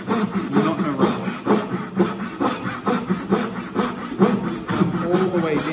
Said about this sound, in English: Now when you're sawing, take your time.